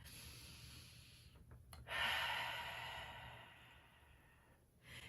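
One slow, deep breath during meditation breath work, a long airy inhale and exhale that is close and soft, followed by the start of another breath.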